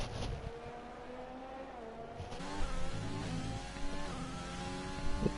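McLaren race car on a flying lap in a racing video game at Spain: a steady, moderately loud engine note rising and falling through gear changes, with no talking.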